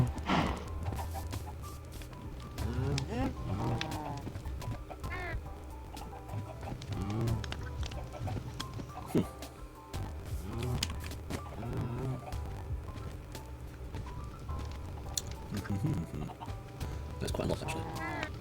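Chickens and other farm animals in the Minecraft video game, a large crowd of them clucking and shuffling in a dense, continuous mix with a constant low hum underneath.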